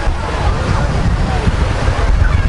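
Sea waves wash onto a sandy beach at Anapa on the Black Sea coast, a steady loud surf roar with wind buffeting the microphone throughout.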